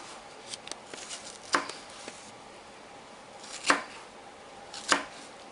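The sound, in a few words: dicing onion with a knife for guacamole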